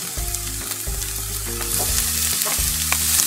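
Lentils sizzle steadily in a pan over medium heat while a utensil stirs them, with close scraping and scattered clicks over a continuous frying hiss and no voices.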